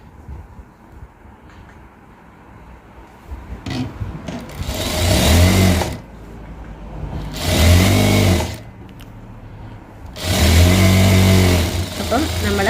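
A sewing machine stitches a one-inch fabric hem in three loud whirring bursts, each about a second and a half long, with quieter pauses and handling noise between them.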